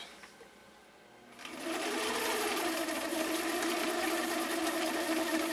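A Husqvarna Viking 6370 sewing machine starts up after a second of quiet and stitches steadily, a close, loud, even mechanical whirr with a fast regular rhythm that holds to the end.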